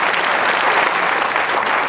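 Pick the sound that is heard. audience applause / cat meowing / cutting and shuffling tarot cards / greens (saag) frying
audience applause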